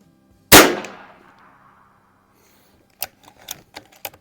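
A single sharp crack from a Shin Sung Career Ultra lever-action .357 PCP air rifle fired at the range, with a fading ring, followed by a quick run of metallic clicks as the lever is cycled.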